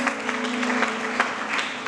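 A church congregation applauds for God, a brief burst of steady, fairly loud clapping from many hands filling the room.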